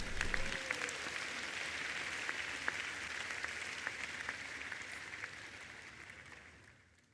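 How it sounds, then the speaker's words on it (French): A church congregation applauding loudly, steady dense clapping that carries on throughout, then fades away at the end. "Acclamez fort le Seigneur."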